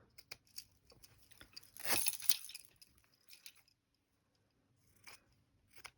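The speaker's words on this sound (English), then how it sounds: "Let's use the pink scissors." Pink scissors snip through paper in quiet, irregular cuts, with one louder crunchy burst of cutting in the middle.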